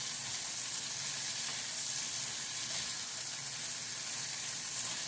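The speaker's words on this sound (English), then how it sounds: "Hear the sizzle." Cheesesteak zucchini boat filling sizzles steadily in a hot pan, a dense, even frying hiss that runs unbroken and close throughout, with no voices.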